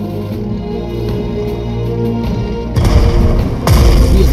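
Artillery fire strikes an enemy tank in the strategy video game Strategic Mind: Blitzkrieg, with heavy booming blasts erupting twice, loud and close, over a steady low rumble of game sound.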